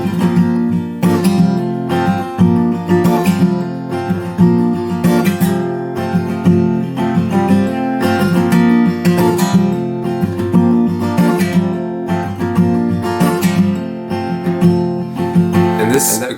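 Steel-string acoustic guitar plays the intro of a song, a strummed chord pattern including a C over G held for a full bar, steady and close for about sixteen seconds with no talking.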